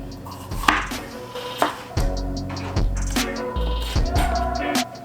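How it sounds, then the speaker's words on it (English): A knife chops bell peppers on a cutting board while chicken enchiladas and a sausage sheet pan meal are prepared, giving a string of sharp, uneven knocks up close over a steady kitchen hum. "So I'm gonna just chop these bell peppers right off."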